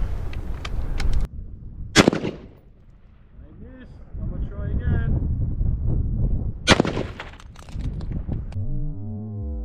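Gunshots fired at a box of ammunition outdoors, a few sharp loud cracks spaced apart, followed by crackling and rumbling debris, with a voice talking between shots.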